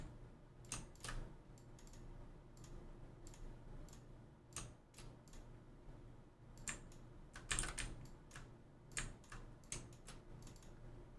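A computer keyboard clicks and clacks in irregular bursts of keystrokes, close and crisp over a quiet room background, with short pauses between clusters of typing.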